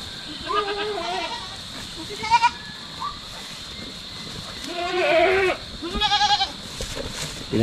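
Goats on a farm bleat in a series of quavering, overlapping calls, some close and loud, others softer, over a steady outdoor background.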